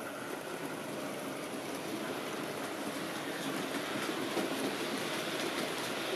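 A Hornby P2 model locomotive runs along its track with a steady, close mechanical whir and faint rhythmic clicking of wheels over rail joints, unbroken throughout.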